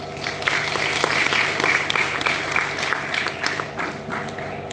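A large audience breaks into steady, loud applause welcoming the chief guest to the dais at an event, a dense wash of clapping that holds evenly throughout.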